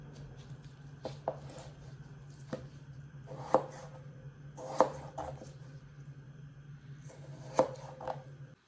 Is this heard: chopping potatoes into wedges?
yes